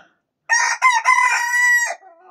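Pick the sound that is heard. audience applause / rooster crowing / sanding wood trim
rooster crowing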